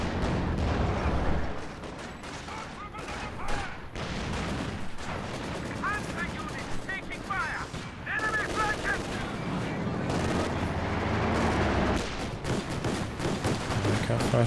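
Flak half-track gunfire in Company of Heroes 2, sustained rapid bursts mixed into a dense battle soundscape of other weapons and explosions, loud and continuous under commentary-level game noise.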